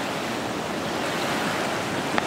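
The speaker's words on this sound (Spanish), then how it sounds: "Está bien fuerte el río." Ixcán river in flood after Hurricane Eta near Santa Cruz Barillas, Huehuetenango, rushing strongly with a dense, unbroken roar of water heard close up.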